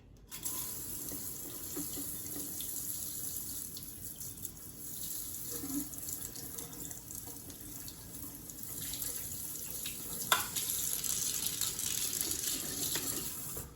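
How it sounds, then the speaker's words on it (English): A paintbrush is rinsed under a running tap in a sink, with a steady, fairly quiet stream of water and faint splashing that changes briefly near the end, with no speech. "So I'm going to rinse off my brush."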